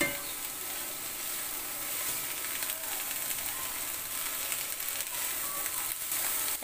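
Spring onions sizzle in hot oil in a pan for fried rice, a steady bright frying hiss with faint scraping of stirring underneath, close and continuous.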